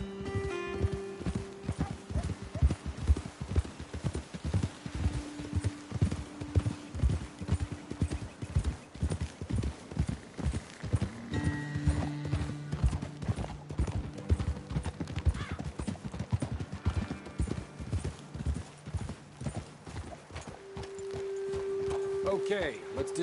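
In Red Dead Redemption 2, horses walk with a steady, close clip-clop of hooves that runs throughout, joined by a brief whinny, while voices talk over the hoofbeats.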